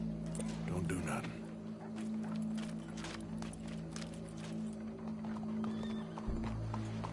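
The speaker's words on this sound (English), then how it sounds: "Go brush that horse, officer." A horse in a PS4 video game, its clopping hooves and a whinny near the start against a steady droning game background, with people talking over it.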